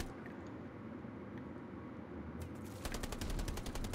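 Rapid automatic gunfire in a first-person multiplayer shooter match, a dense burst of repeated shots starting near the end and loud over a steady background of game noise.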